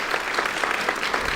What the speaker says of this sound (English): Please give Richard Mays a lot of applause.